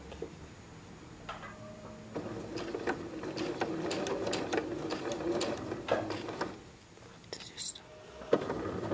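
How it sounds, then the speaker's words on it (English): A domestic sewing machine makes slow stitches during a quilt sampler sew-along, with short bursts of soft rhythmic clicking and whirring, brief pauses between runs, and a faint voice beneath. "So slow stitches on the machine, needle down when you pause"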